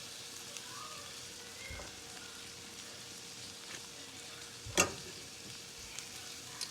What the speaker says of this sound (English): I'm going to add my butter now